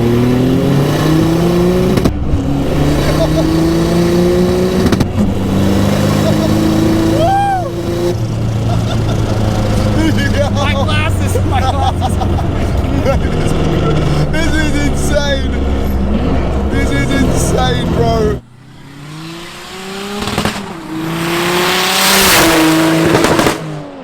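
A 1057 bhp 1992 Toyota Cressida sleeper accelerates hard, its engine roaring and climbing through the revs with a brief break for a gear change before surging again, loud and close from inside the car, with talk over parts of it.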